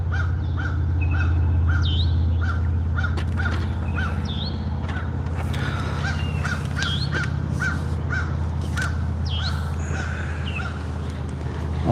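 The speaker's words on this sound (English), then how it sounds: "That's a crow in the background." A crow caws repeatedly in short, evenly spaced calls beside a lake outdoors, set over a steady low background hum and faint chirps from other birds.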